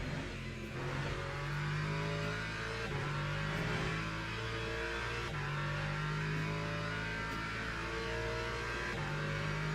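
Porsche race car engine in a racing video game, revving and shifting through gears in a sustained mid-pitched drone with rising and falling pitch, steady and close, no talking.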